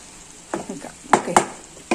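Raw banana pieces being stirred in hot oil in a pan, with a faint low sizzle under a few distinct scraping strokes of a spoon.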